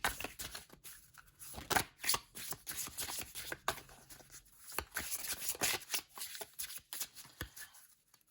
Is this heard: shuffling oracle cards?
yes